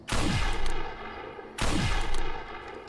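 Two loud, booming sniper rifle shots ring out in the online shooter Defiance, each a sharp crack followed by a long rolling tail, spaced about a second and a half apart with no talk.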